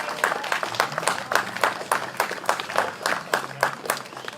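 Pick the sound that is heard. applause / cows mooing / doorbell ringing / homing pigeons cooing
applause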